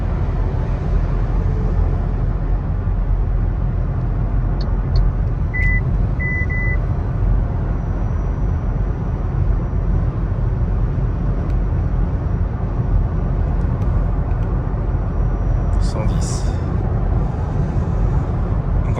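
Steady, loud cabin noise inside an MG4 cruising at 110 km/h: a dense, continuous road and wind roar with a few faint electronic chirps, and no talking.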